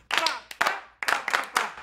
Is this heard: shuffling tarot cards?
no